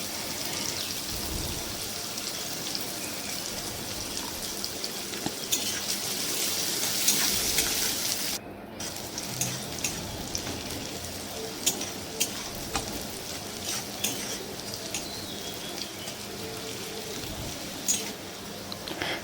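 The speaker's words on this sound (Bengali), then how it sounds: "পেঁয়াজটা লাল লাল করে ভাজতে হবে" Onions fry with a little salt in a pan, a steady close crackling sizzle like light rain, with occasional stirring clatter, one brief dropout midway, and no clear speech.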